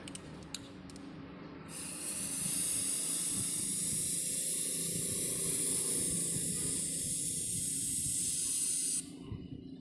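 Elano sealant spray can sprays in one long, steady, bright hiss lasting about seven seconds, loud and close, with faint handling clicks before it starts.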